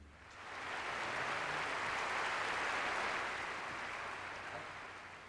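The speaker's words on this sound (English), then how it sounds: "And then the applause sign goes on" An audience applauds steadily at a guitar master session, a dense wash of clapping that swells within the first second, holds loud for several seconds, then eases slightly toward the end with no voices over it.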